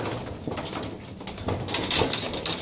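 Soft pigeon coos repeat against a low, steady background murmur, close by and fairly quiet.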